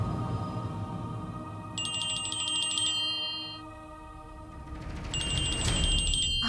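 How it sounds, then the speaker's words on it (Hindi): A bright electronic phone ringtone chimes in two bursts over a low background hum, fairly close and clear. "मैं अर्जुन को फोन करती हूँ।"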